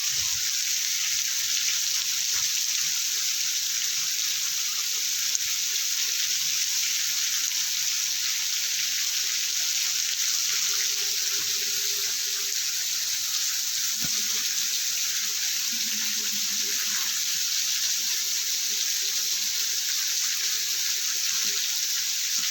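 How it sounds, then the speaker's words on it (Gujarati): Heavy night rain falls on a village and runwater flows. The broad, steady hiss stays loud and continuous throughout, with faint low background sounds beneath it. "એવો અત્યારે વરસાદ આવી ગયો છે"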